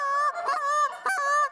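Geese honk from a hunting blind at sunrise in a few close, loud, nasal calls, the last broken into a quick double honk.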